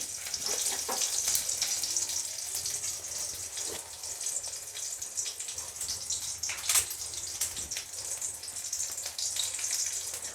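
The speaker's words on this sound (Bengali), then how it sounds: "ফোড়ন দিলাম।" Whole spices, cumin seeds and a pinch of asafoetida, tempering in hot oil for a Bengali greens dish: a continuous bright sizzle with scattered crackles and pops, close and steady.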